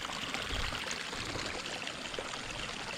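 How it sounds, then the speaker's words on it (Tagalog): Irrigation water flows steadily into a rice paddy on a Philippine farm, a continuous close rushing and pouring wash at low level with no voices. "Tuloy-tuloy po ang tubig yan."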